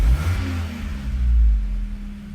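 Car engine on a Megasquirt-tuned setup, throttle blipped once for a short rev that rises and then falls back toward idle, loud and close with a low steady rumble, no talk.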